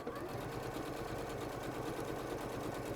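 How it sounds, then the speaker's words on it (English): A sewing machine hums continuously and evenly at fairly low level, sewing the side edge of a pocket onto a dress with a rapid, regular stitching pulse throughout. "it's just sewing the side edge of the pocket to the dress"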